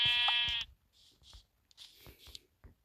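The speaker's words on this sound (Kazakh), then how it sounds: "Так, қой." Minecraft sheep bleat: one loud, wavering, harmonic-rich bleat near the start, followed by softer game clicks and rustling.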